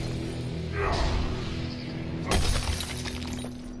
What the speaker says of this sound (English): And in a shatter, that's gonna do it.